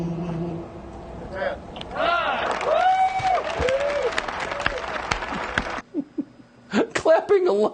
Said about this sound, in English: Clapping alone in his sad little apartment.